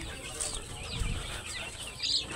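Faint clucking and rustling from chickens nearby, with a brief flutter of wings and a soft cry near the end.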